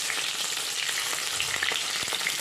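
Stuffed bitter gourd (karela) fries in a pan with oil, giving a close, steady, hissing sizzle with small crackles and no talking.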